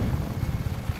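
A helicopter flies in the video game Just Cause 3, with a steady low rotor thrum and pulsing chop that stays loud and even throughout, with no talking.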